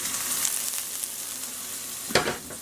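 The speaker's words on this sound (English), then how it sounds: "Garlic is really cooking really quick." Garlic and onions frying in a pan give a steady, close hiss of sizzling with a sharp clatter near the end, no voices.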